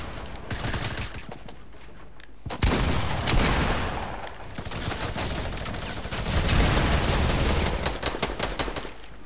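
Rapid bursts of video game gunfire, sniper shots mixed with automatic fire, loud and close in a bot match, dense volleys stacking over one another with no talking.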